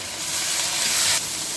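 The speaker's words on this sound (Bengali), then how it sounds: "আমি ভালোভাবে মশলাটাকে কষিয়ে নেব।" Ginger, salt, turmeric and chilli powder frying in hot oil for fish kaliya, a steady close sizzle and hiss that swells briefly and then settles, with no voices.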